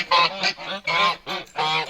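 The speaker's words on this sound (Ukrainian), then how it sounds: "Є мої гуси, не кричіть" Several loud, close goose honks in quick succession, each a harsh nasal call separated by brief pauses.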